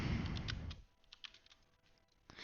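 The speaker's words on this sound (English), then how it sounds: "sorry if my keyboard's louder now" Clicky keystrokes from a loud mechanical gaming keyboard, a quick burst of typing followed by scattered individual key presses, close up with no voices.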